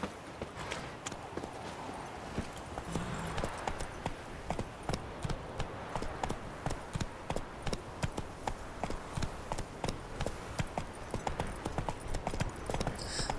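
Horse hooves clip-clopping in The Witcher III, a steady, even rhythm of hoofbeats at a trot, moderately loud over a dense game ambience.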